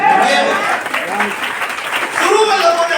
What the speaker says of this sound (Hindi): आज इतने लोग ताली बजा रहे हैं ना,